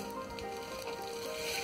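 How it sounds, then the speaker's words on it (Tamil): Black pepper, cumin and curry leaves sautéing in hot oil for rice made with black gram, giving a steady close sizzle with faint crackles throughout. "இப்போ கருவேப்பிலை, நம்ம ஆட் பண்ணிருக்க இன்கிரீடியன்ஸ் எல்லாத்தையும் நல்லா வதக்கிக்கோங்க."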